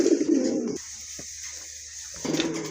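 Pigeons coo nearby, a burst of throaty calls, a short pause, then another coo at the end.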